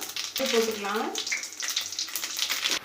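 Fennel seeds hit hot oil in a pan and crackle in a close, lively sizzle with short bursts, while a voice briefly speaks over it.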